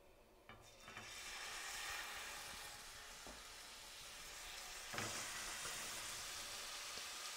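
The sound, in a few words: stuffed pork roast searing in a frying pan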